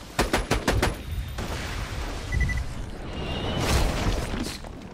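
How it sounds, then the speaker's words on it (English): Auto cannon firing in the video game Borderlands 2: a rapid burst of heavy, sharp shots up front, followed by booming impacts and lingering rumble. "Auto cannon."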